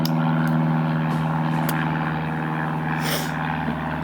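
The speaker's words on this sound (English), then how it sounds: "we'll wait for the airplane." A propeller airplane drones overhead outdoors, a steady low engine hum with a persistent tonal whine that stays loud and constant throughout, no voices over it.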